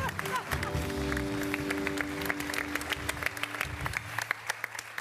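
An audience applauds, a dense patter of many hands that thins toward sharper separate claps near the end, with a voice and music underneath.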